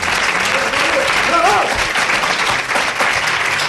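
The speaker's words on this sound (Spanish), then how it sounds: "razón y un aplauso" Studio audience applause at a live radio programme launch, a dense steady wash of clapping that holds loud throughout, with faint voices and a brief rising tone mixed in.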